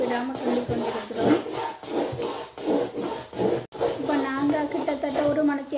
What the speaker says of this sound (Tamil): கை விடாமல் கிண்டிக்கொண்டிருக்கிறோம்.